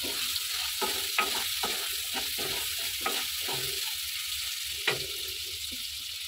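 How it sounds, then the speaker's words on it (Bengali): Prawns frying with salt in a pan, giving a steady bright sizzle with repeated stirring scrapes and occasional sharper pops, close and continuous. "তো লবণ দিয়ে বেশ কিছুক্ষণ ভেজে নিলাম।"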